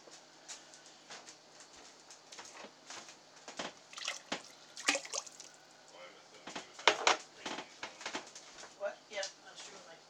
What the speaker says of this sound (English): I'm just going to rinse that out and put some water.